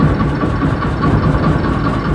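A ZH1130 series diesel engine idles close by with a steady, loud, low throbbing chug and even mechanical rhythm, running alone without talk.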